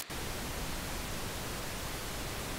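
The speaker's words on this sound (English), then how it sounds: "Pink noise." Steady, even hiss of pink noise from a test oscillator, deeper and softer than white noise, filling the clip without change after a brief start.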